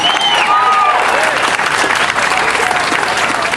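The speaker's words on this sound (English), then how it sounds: "You can clap again." Loud, dense audience applause at an energy rally with a state senator and assemblyman, continuous clapping with a few cheers and whistles mixed in, close and filling the whole stretch.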